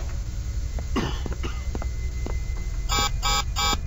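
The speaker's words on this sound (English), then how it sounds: "he coughed up some of the gas" A game character in SCP Containment Breach coughs from gas, with a short burst of dry coughs near the end over a steady background hum.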